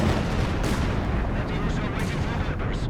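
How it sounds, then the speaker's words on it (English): A creeping artillery barrage rumbles without a break in the Company of Heroes 2 strategy game, with dense, overlapping booms of shell fire. A commentator's voice sits faintly underneath. "I think he's actually using a creeping barrage there as well."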